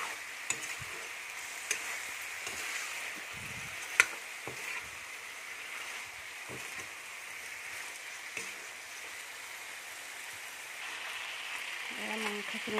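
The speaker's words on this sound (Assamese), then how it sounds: "চাওক এতিয়া মাংসখিনি আৰু অকণমান মই হিলাই দিম।" Pork frying in a masala paste in a pan gives a steady, soft sizzle, with occasional scrapes and taps as it is stirred.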